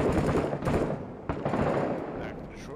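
Booming blasts and rattling gunfire fill a firefight in the video game Six Days in Fallujah, with several heavy, close impacts in quick succession and a voice talking underneath.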